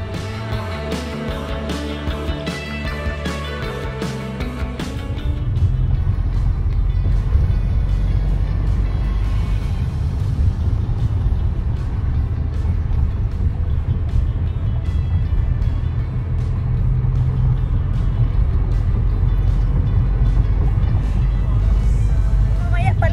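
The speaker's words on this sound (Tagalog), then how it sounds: "medyo ma-traffic na dito sa may highway" Highway traffic heard from inside a moving vehicle, a continuous loud low engine and road rumble that thickens after the first few seconds and holds steady, with faint clicks and rattles over it.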